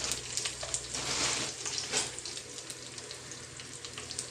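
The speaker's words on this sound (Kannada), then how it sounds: "ಈಗ ಮೆಣಸು ಹಾಕ್ತಿದ್ದೇನೆ, ಒಣಮೆಣಸು." Dried red chillies fry in hot oil with mustard and fenugreek seeds for a Mangalore-style fish pulimunchi, giving a soft, continuous sizzle and spatter, louder at first and then settling.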